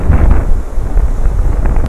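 Strong gusts on a beach on Phangan, Thailand, buffet the microphone in a loud, continuous low roar that swells and dips without letup.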